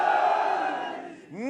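A crowd at a Pakistan Peoples Party corner meeting in Nagar chants back a slogan in one loud, sustained collective shout that slowly fades, then a single leading voice begins the next call.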